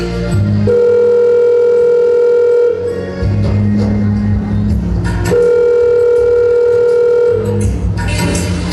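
A telephone is dialed on stage at a school annual function, with long sustained tones that change pitch in steps and short tone bursts between them. The sound is loud and near, with some background noise.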